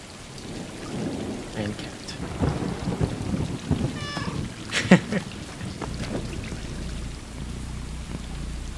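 Steady rain with low thunder rumbles in a thunderstorm in the video game Stray, plus a few sharper knocks and a brief faint cat-like sound in the middle.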